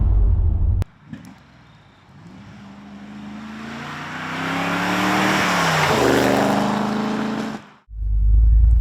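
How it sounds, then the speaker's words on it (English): A 1980 Corvette with an untuned carburetor revs up after a sharp start, its engine note rising and wavering unevenly before dropping, then cutting off, loud and close with no speech. "The mixture, it's really stumbly. The mixture's all over the place. I think the carburetor is not remotely tuned"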